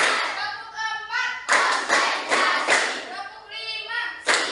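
Children clap in rhythm during a classroom clapping game, several sharp group claps in quick succession, interleaved with a teacher's chanted counting voice.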